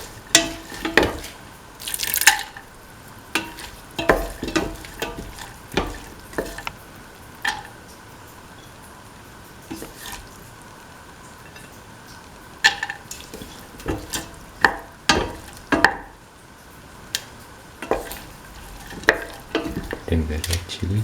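A spoon stirs split chickpeas through a mixture in a frying pan, making repeated scraping clicks and soft sizzling in irregular strokes, close up with no talk.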